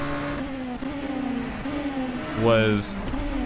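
Mazda RT24-P DPi prototype race car engine in rFactor 2 at Sebring, a steady harmonic drone echoing off walls, then a brief sharp rise in pitch as it revs, with a voice talking over it.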